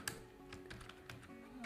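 Quiet, steady clacking of computer keyboard keys being typed in a short run, faint and close, with no talking.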